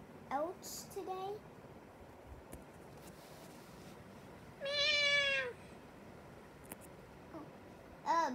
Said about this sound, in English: this is cat going meow all day